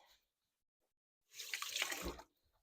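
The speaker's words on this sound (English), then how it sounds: "I'm going to get my hands wet" Tap water gushes into a kitchen sink for about a second as hands are wetted before scooping pumpernickel dough, a short steady splash surrounded by near silence.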